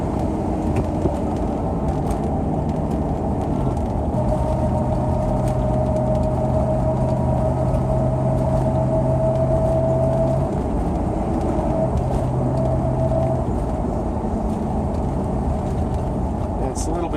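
A car with an automatic transmission droning along at steady speed under load, with a persistent whine from the transmission or differential sounding over the road and engine noise.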